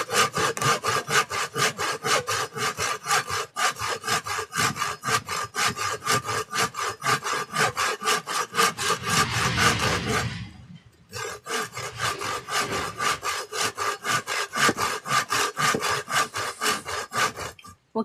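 An electric saw cuts through wood in a long, loud, rhythmic grinding rasp that runs for seconds, pauses briefly, then resumes with the same steady strokes. No one speaks.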